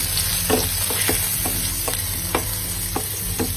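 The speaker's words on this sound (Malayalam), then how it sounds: "ഗാർലിക് ഞാൻ നിങ്ങൾക്ക് നന്നായി സോട്ട് ചെയ്തെടുക്കുകയാണ്" Garlic and the white part of spring onion sautéing in a pan, with a steady sizzle punctuated by about eight sharp utensil scrapes and taps as it is stirred, close and moderately loud.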